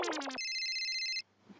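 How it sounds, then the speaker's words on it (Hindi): A mobile phone ringtone plays loud and near: a quick run of warbling chirps followed by a sustained electronic tone that stops abruptly after about a second. "फोन आया।"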